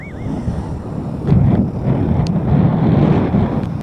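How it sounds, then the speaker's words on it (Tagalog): Steady heavy rushing outdoors during a typhoon ride, a dense low roar with broadband hiss that swells louder partway through, like a downpour mixed with wind. "Biglang lumakas ang ulan."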